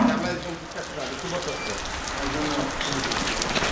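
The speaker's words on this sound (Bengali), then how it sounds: "এটা হচ্ছে বৃষ্টির কারণে" Steady rain at a cattle farm, a dense even hiss of drops striking surfaces, close and constant with no pauses.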